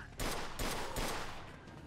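Shootout gunfire in the Mafia 2 game: three close, loud bursts of shots in quick succession, each a dense crackle that fades briefly before the next.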